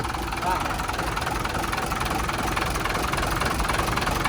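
An airport bus's diesel engine idling, a loud steady low rumble with continuous vibration and no breaks, heard up close.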